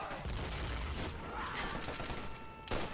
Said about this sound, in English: You can hear their Grants and Thompson submachine guns run crazy at the German positions.